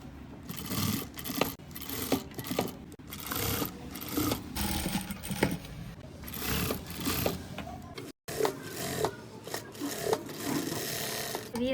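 A sewing machine runs in short stitching bursts through cloth and paper on a pant cuff design, a close, busy whirring with brief pauses and one sudden cutoff midway, no one speaking.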